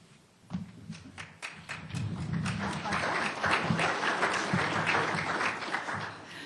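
Audience applause breaks out at a panel session on emergency swine disease response, starting as scattered claps and swelling into steady, dense clapping that fills the room.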